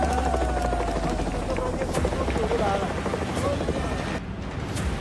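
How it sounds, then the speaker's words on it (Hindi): Dozens of army helicopters flying over a flash flood rescue in Nepal: a steady, loud rotor roar with wind noise, continuous and droning throughout. "सेना के दर्जन भर हेलीकॉप्टर आसमान से रेस्क्यू में जुटे।"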